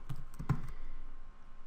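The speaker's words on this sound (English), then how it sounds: "So I'm going to type" Keystrokes on a computer keyboard entering an AT command to join a router network, a few quick clicks clustered early then fading into quiet room hiss.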